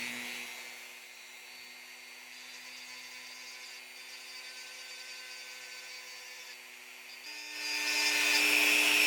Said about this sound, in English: I'm going to be using like a green sanding stone for the Dremel